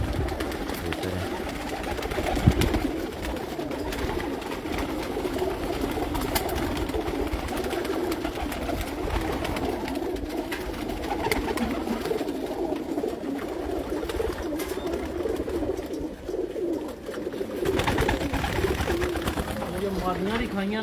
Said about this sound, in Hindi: कबूतर है।